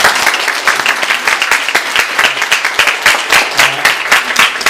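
A church congregation applauds at a Sunday worship service on New Year's Eve, a dense, steady wash of many hands clapping that fills the room loudly from start to finish.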